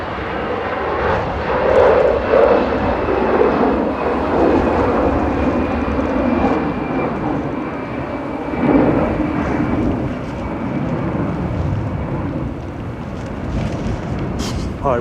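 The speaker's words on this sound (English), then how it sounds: "EasyJet to Pisa departing now." An EasyJet passenger jet departs Manchester Airport on a windy day. Its loud jet engine roar rumbles and swells steadily throughout, nearby and powerful, with wind buffeting the microphone.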